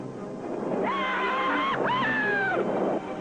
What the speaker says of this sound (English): That is the sound of joy and relief from a skydiver who has just managed to foil disaster